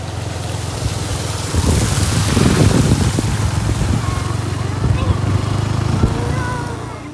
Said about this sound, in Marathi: कसा वाटतंय मग हा वॉटरफॉल? छोटा पण लय भारी